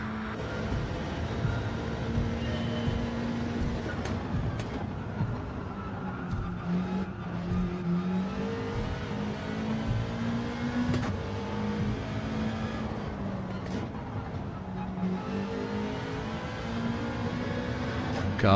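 A race car in Gran Turismo 7 laps the Tokyo Central circuit counter-clockwise, its engine droning continuously with rising and falling revs through gear changes and occasional tire squeal.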